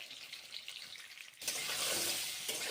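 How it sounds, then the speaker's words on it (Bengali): Pieces of pointed gourd seasoned with turmeric and salt fry in hot oil, a soft crackle that jumps into a loud, dense, continuous sizzle midway through, close up and with no voices. "তাই পটলগুলোকে আগে থেকেই ভেজে রেখে দিচ্ছি।"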